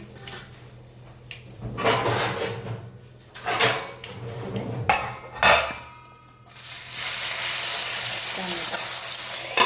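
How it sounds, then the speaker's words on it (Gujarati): Cumin seeds and asafoetida sizzling in hot oil while lapsi is cooked, with intermittent crackling bursts and clanks from the pan, then a loud, steady sizzle as more goes into the pan. "હવે આપણે એડ કરીશું જીરું, હિંગ,"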